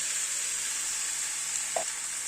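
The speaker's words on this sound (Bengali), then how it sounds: "মাছগুলোকে একটু নাড়াচাড়া করে নেওয়ার পরে এখানে যে পেস্টটা, ধনেপাতা, পোস্ত, কাঁচা লঙ্কার পেস্টটা দিয়ে দিলাম।" Mourala fish frying with a paste of coriander leaves, poppy seed and green chilli, giving a steady close hiss with one soft clink of utensil near the end.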